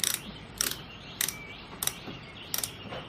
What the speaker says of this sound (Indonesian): Oke, ini kita kencangkan.